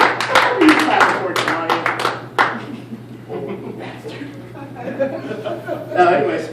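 An audience at a stand-up comedy show claps in scattered bursts with some chuckles, loud at first and then fading, as speech carries on.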